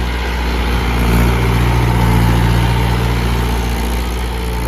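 A Mahindra 475 DI tractor engine idles steadily and loudly up close, a constant low diesel rumble with no change in pace and no voices.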